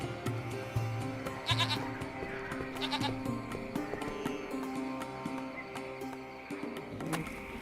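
A goat bleats in the video game Lost Horizon, several short nasal cries repeating near the start over a busy ambient backdrop of game music and clicks.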